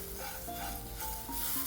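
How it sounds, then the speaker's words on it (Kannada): Washed, partly dried white sona masoori rice is stirred and toasted in a pan over a low flame, making a continuous dry rustling scrape with faint sizzle, close and steady, with no voices. "ಅದನ್ನು ವಾಶ್ ಮಾಡಿ ಸ್ವಲ್ಪ ಒಣಗಿಸಿ ಈಗ ಫ್ರೈ ಮಾಡಬೇಕು."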